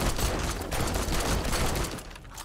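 Rapid automatic AK rifle fire in the survival video game 7 Days to Die, a dense, loud burst of overlapping shots lasting about two seconds before trailing off.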